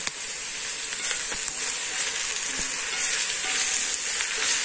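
Long-sliced oyster mushrooms fry in hot oil for vegetarian plov, giving a bright, steady hiss and sizzle. A few soft utensil taps come through close up, with no talking.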